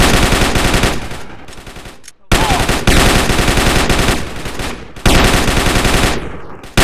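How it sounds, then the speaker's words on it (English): Sustained automatic gunfire rattles in dense bursts during a gang shootout in Grand Theft Auto: San Andreas on Android, loud and nearly continuous with brief pauses, and a short exclamation from a voice. "Get some suppressing fire in there!"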